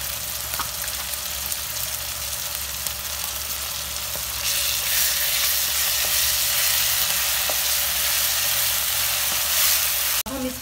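Chicken macaroni sauce sizzles steadily in a hot pan after yogurt is added, a loud close frying hiss that swells partway through and carries on with faint stirring ticks.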